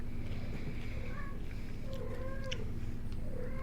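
A cat meows several times, short rising and falling calls heard faintly over a steady low hum in a quiet room.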